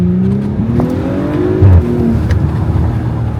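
An Audi with a muffler and resonator delete revs hard, its exhaust rising and falling in loud, raspy sweeps with a sharp bark between pulls, close up and with no talking.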